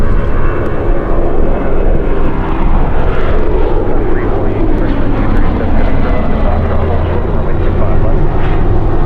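A loud, steady roar from an airliner landing on runway 25 left at Los Angeles International Airport, a broad engine rumble that holds throughout with a voice talking over it.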